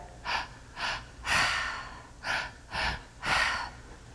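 Six deep, deliberate breaths during breathwork meditation, close and fairly soft, arriving in an irregular rhythm with quieter gaps between each inhale and exhale.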